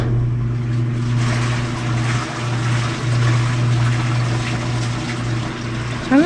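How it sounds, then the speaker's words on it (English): A clogged drain gurgles and slurps continuously like liquid sucked through a straw, loud and close over a steady low mechanical hum. "Sounds like someone drinking from a straw."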